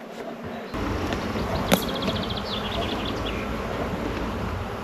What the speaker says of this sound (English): Bees are friendly.